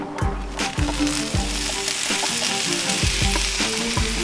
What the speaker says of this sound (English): We are doing pork tips with some sauteed mushrooms, onions, and peppers that I'm going to get started right away.